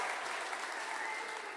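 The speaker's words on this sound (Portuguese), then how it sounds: "Dá um aplauso para esses homens" A church congregation applauds a group of men during a sermon: dense, steady clapping fills the whole moment at an even level, with no voice over it.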